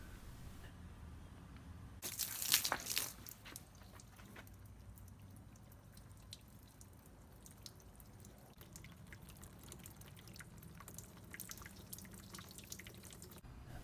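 Rainwater seeps along the roof channels of a Toyota car and drips toward the drain holes, a faint, steady trickle with scattered soft drips and one brief louder splash early on.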